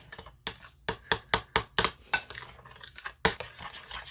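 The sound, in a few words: stirring pasta salad in a bowl with utensils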